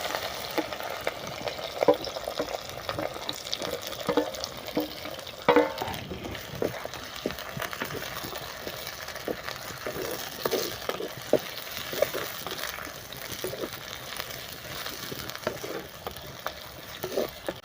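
Chopped ginger, green chilli, curry leaves, garlic and onion sizzle in hot oil for a fish curry, a steady frying hiss broken by scraping stirs and clinks of a utensil against the pan, close and without talk.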